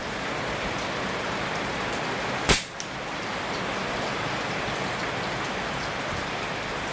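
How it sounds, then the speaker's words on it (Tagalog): Steady heavy rain pours throughout, a dense unbroken hiss with one brief sharp knock midway. "lumakas na uli yung ulan"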